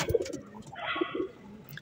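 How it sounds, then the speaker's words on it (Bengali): A pigeon coos softly nearby, a couple of low throaty calls over faint background rustle. "কবুতরগুলো ঢুকানো হয়নি, পক পক আওয়াজ করছে"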